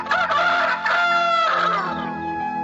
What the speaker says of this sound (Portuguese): E imediatamente o galo cantou.